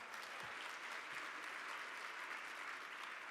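A large conference crowd of about 1,800 applauds, with dense, steady clapping that stays even and full throughout.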